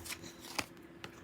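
A few quick papery snaps and riffles of tarot cards being shuffled, close and fairly quiet, with a faint steady hum underneath.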